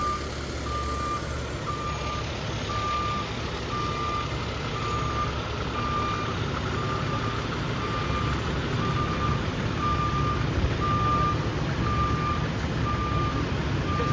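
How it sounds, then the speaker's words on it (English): A tow truck's reversing alarm beeps in a steady, evenly spaced series over a continuous low engine rumble and street background. "Here comes the foul zone tow truck to remove this big old tow truck we got here."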